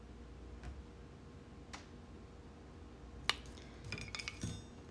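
A metal tablespoon and teaspoon clink together in a quiet room, a few sharp light taps and chimes, with a cluster of small clinks near the end.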